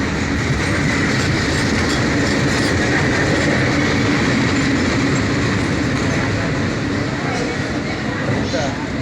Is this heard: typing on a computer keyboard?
no